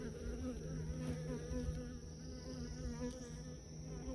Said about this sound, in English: All these bees are worker bees.